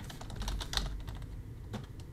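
Clicky computer keyboard typing in bursts of irregular keystrokes, close and moderately loud over a low steady room hum, with a longer pause before a final flurry of taps.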